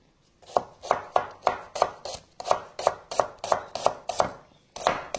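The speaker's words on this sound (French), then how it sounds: "On va couper tout petit." Shallots chopped finely with a knife on a cutting board, a steady run of crisp, close blade taps in quick rhythm, with one short pause partway through and no talking.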